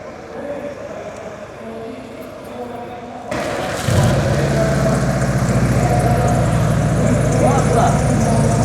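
A Subaru Impreza engine cranks and catches, then settles into a steady, loud idle rumble close by, after a stretch of quieter background noise.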